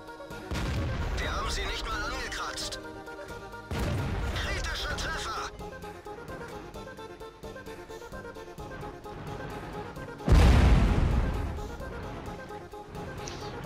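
An E25 tank fires in a video game on the Sand River map: three loud booming shots spaced several seconds apart, each with a decaying rumble, while a person talks throughout.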